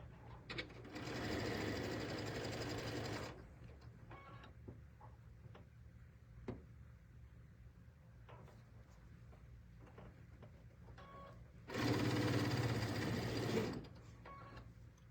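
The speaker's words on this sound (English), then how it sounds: "we're going to sew the small yellow and white triangles together" Sewing machine stitching small yellow and white quilt triangles with a quarter-inch seam foot, two loud steady bursts of rapid stitching separated by a quieter stretch of faint handling clicks.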